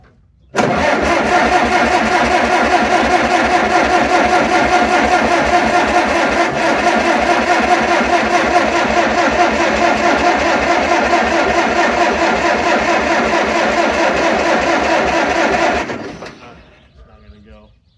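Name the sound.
tractor 72c10 engine cranking and starting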